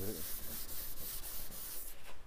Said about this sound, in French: en ponçant avec un grain de 400, vous verrez directement que cela devient légèrement mat et change de couleur